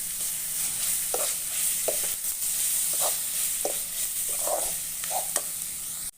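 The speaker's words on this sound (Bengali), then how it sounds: "ঠান্ডা পাতা দেওয়ার পর আমি ভালোভাবে কষে নিলাম" Leaves being stir-fried in a pan for a homemade fish curry, a steady hiss of frying under a series of about eight distinct scraping stirs spaced roughly half a second to a second apart.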